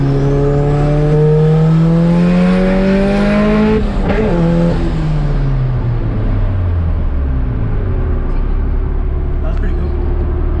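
A Chevrolet Camaro passes at a car show, its engine tone sweeping down as it goes by, loud and near, amid a busy crowd with people talking in the background.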